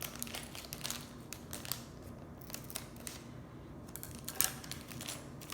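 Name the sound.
opening a LEGO plastic bag with scissors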